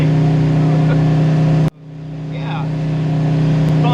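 Truck engine droning steadily at 3,800 RPM while cruising down an interstate, a loud continuous hum with a brief dip in the middle before it swells back, and a short spoken word over it.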